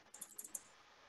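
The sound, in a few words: typing on a laptop computer keyboard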